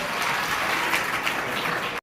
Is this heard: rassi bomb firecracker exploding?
no